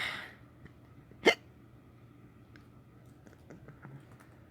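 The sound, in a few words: hiccups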